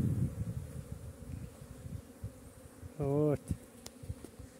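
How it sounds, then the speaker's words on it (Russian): Honeybees buzz around beehives outdoors on a windy day, a steady faint hum with one loud, close buzz sweeping past the microphone; someone briefly speaks. "А тут тоже летают пчелки."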